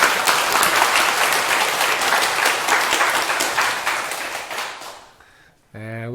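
A lecture-hall audience at a Buddhist monk's talk claps loudly and steadily, the applause thinning and fading out, then a voice begins speaking right after.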